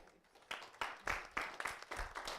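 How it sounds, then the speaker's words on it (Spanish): Applause in a church service, a handful of rhythmic claps about every quarter second, fairly faint and sparse, with a voice blending in. "Le damos un aplauso al Señor"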